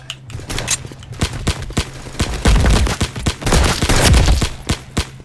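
Rapid bursts of gunfire in a Roblox robbery game, loud and close, with dense repeated shots and heavier volleys in the middle and toward the end.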